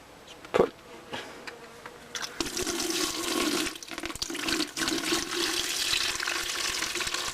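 Water from a garden hose pours into a hydroponic container for tomato cuttings, a steady rushing, splashing flow that starts after a brief knock and continues loudly to the end.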